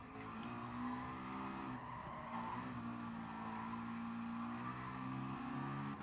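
A Gr.4 race car in Gran Turismo Sport brakes hard into a corner, its tires squealing over a steady engine drone that dips and then picks up again, fairly faint overall.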